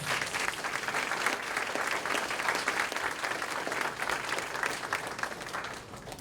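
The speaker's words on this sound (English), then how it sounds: "Let's give them all one more round of applause." Steady, dense applause from an audience at a kindergarten celebration in an elementary school, continuous clapping from many hands for several seconds at moderate loudness, with no speech over it.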